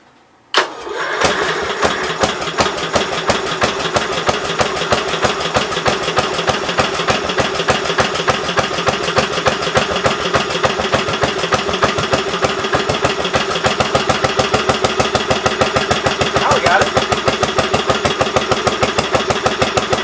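A 1982 Gravely 8163-B garden tractor engine fires up after a brief cranking burst, then settles into a loud, steady, close idle with even rhythmic pulses.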